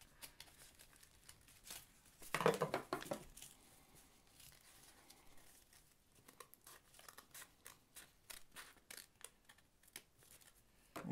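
Scissors snip through folded paper for an origami spider, a run of short crisp cuts and rustles with one louder crinkling burst near the start, close and quiet with no talking.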